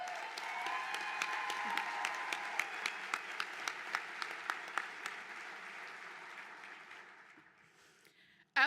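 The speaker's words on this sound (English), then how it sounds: "I'll give you a round of applause." Applause from a ceremony audience at a softball Hall of Fame induction, a steady wash of clapping with a few sharp claps standing out, tapering off toward the end.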